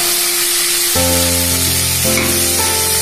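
Boiled chicken sizzling and frying loudly in a pan with ginger garlic paste and garam masala for gongura chicken, a continuous close crackle with a bright tone layered over it.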